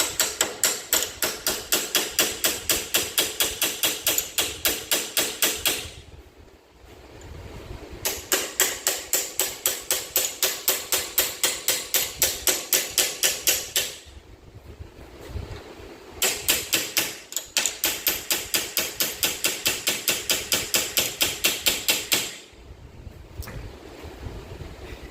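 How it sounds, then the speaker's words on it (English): A small hammer strikes a punch against a steering column tilt pin in rapid, steady metallic taps, close and loud, in three long runs separated by short pauses. "And a small hammer."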